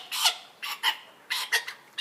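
Chicken giving several short, loud squawks in separate bursts as a handler turns it around while evaluating it, close by with no talk.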